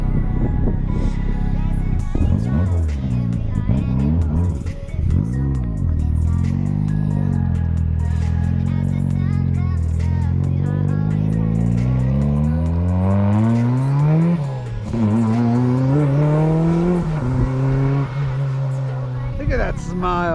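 A 300 hp Mazda Miata accelerates hard through its gears, the engine note climbing and falling with each shift, loud and close from inside the car, with people talking over it.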